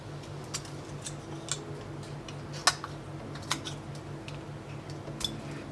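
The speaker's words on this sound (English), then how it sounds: "So first thing, we will cut this part with some scissors." Scissors snipping a small 3D-printed cover part, a series of sharp irregular clicks and cuts, one louder snap midway, close and quiet over faint room hum, no talking.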